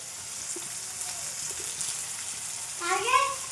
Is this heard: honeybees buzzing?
no